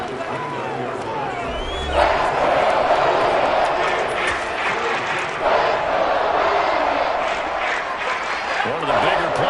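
Crowd noise at an American football game rising into a broad, sustained roar of cheering ahead of a big third down, loud and continuous with a play-by-play voice over it.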